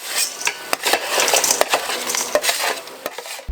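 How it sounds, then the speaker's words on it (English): Crispy roast potatoes are tossed and stirred in a metal pan, giving a dense scraping, crackling crunch with sharp clicks of utensil on metal, close and continuous. "Carefully remove your potatoes from the oven and mix them around."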